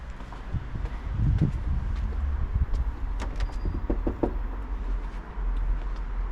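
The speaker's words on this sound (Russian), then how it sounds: "Постучал, мало ли, вдруг откроют." Knuckles knock on a door of an old building in Futog, Serbia: a handful of sharp raps clustered in the middle, fairly quiet against steady outdoor background noise.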